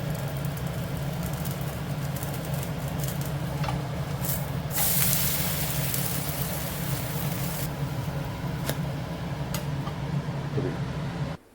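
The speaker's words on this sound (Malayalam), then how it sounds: "നമുക്ക് കുറച്ച് നെയ്യ് ഇട്ട് കൊടുക്കാം." Ghee sizzles on a dosa on a hot griddle, a steady dense hiss with a brief louder flare midway, continuous to the end.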